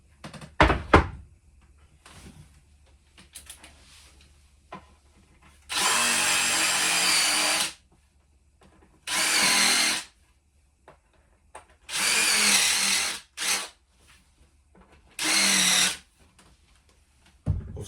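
A power drill countersinks screw holes in melamine for narrowboat galley drawers, whirring in about five separate loud bursts of one to two seconds each, with quiet gaps and a few soft knocks between them.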